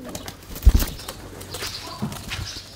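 Pigeons beat their wings in a short, close burst of flapping, with softer rustling and faint bird sounds in the quiet around it.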